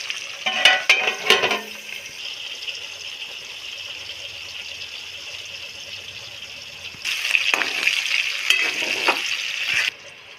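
Gunda (glue berries) fry in oil with a loud, bright hiss that runs steadily, rising in two strong bursts with stirring clatter at the start and near the end, close by.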